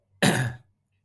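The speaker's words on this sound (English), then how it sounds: "I had to clear my throat" A single harsh throat clearing, close and fairly loud, lasting under half a second, then silence.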